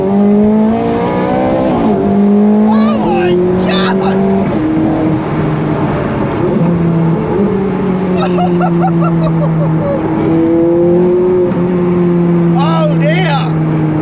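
A Ferrari 430 Scuderia accelerates hard along an open road, its loud engine climbing through rising pitch sweeps between gear shifts, heard close from inside the car with a person exclaiming over it.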